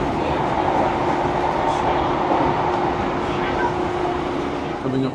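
A TransPennine Express train runs between Cleethorpes and Grimsby, heard from on board as a dense, steady rumble of wheels and motor that stays loud and even throughout.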